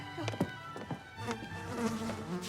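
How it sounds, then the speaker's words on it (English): Wasps buzzing in a seaside setting, a faint, wavering drone with brief tapping bursts, heard alone. "Wasps."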